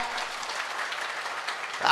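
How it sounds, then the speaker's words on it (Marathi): A crowd at a police officer's talk claps together in an even, sustained patter of many hands, moderately loud and without a break. "टाळ्या वाजवा स्वतःसाठी टाळ्या वाजवा"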